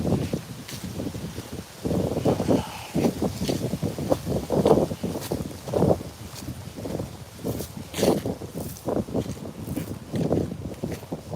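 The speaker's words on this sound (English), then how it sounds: "The wind is kicking up again." Gusty wind blows across the microphone outdoors on a nature walk, rumbling and buffeting in uneven surges throughout, loud and close, with no clear talking.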